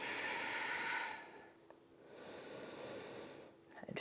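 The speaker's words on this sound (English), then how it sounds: "5 deep breaths." Slow, deep breathing during a yoga hamstring stretch toward the splits. A long soft exhale fades into quiet before another breath begins, faint and close, with a light hiss in the background.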